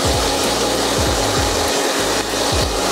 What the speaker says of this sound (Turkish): Saçıma bakmak amaçlı şu anda saçımı kurutuyorum